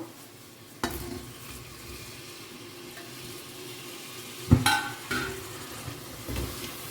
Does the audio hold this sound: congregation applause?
no